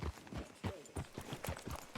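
Horse hooves clip-clop at a steady walking rhythm in Red Dead Redemption 2, roughly a dozen close, soft thuds at an even pace.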